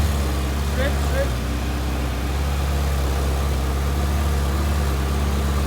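The engine of a disassembled Ferrari 488 GTB running at a steady idle, a continuous low rumble with a faint whine above it and no revving. Talk can be heard faintly over it.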